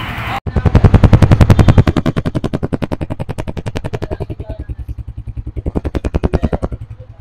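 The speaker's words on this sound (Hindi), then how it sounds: "आपको मोटरसाइकिल की आवाज़ कैसी लगी है?" A Honda CG 125 motorcycle engine idles without throttle, a loud, close, rapid and even thumping exhaust beat that runs steadily for several seconds with slight swells in strength.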